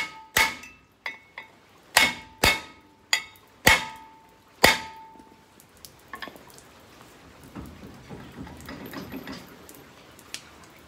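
A hammer strikes a rusty car part during an ABS repair, about seven sharp, ringing metallic blows over five seconds, followed by quieter clinks and handling noises.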